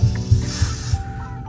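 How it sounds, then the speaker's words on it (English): A steady hiss of hair spray from an aerosol can, sprayed continuously for about a second onto the edge of a wig, then stopping, with a faint low hum underneath. "Spray your perimeter."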